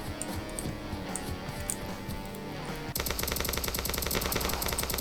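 Rapid automatic gunfire from a Roblox military shooter game, first in dense bursts and then as a louder, sustained, steady rattle of shots with no talking.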